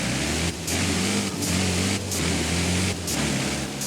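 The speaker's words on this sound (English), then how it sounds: "it sounds identical to a lorry" Mercedes Unimog engine in Forza Horizon 5, with a deep, lorry-like drone held steady and loud throughout, cut by several brief gear-change pauses in a regular rhythm.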